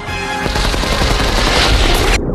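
Rapid, loud gunfire from a scene of the animated movie Cars 2, a dense burst of shots and booming impacts running steadily for about two seconds before cutting off abruptly.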